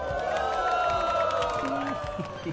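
A crowd cheering and whooping in the Like a Dragon Pirate Yakuza video game, a lively mass of voices with scattered clapping, heard under a sung melody.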